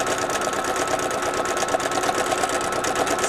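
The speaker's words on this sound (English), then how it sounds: "that I'm not stitching really fast. And I'm moving so that I've got big stitches, not small stitches." A sewing machine runs steadily while stitching a zipper pouch with slow, long stitches, a close, even mechanical whir with a rapid regular needle chatter throughout.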